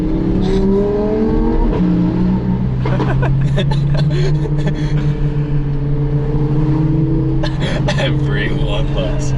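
A Lamborghini Huracán Performante engine drones and revs steadily, close and loud, with people talking over it throughout.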